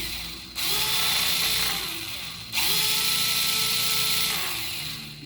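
Small electric mini chopper motor whirring steadily close by, starting once, dipping briefly and restarting for a second sustained run, with no voices over it.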